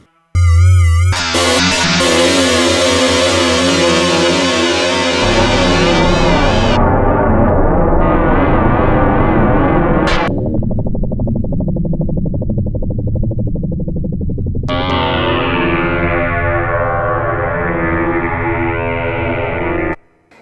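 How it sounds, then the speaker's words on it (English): A Korg Volca synthesizer churns out weird, spooky sound effects with a Halloween feel: a dense, loud drone of shifting, warbling tones that drops to a rumbling low layer midway, then swells back into bright, sweeping electronic textures, all without any voice. "Can probably create some really weird sound effects as well."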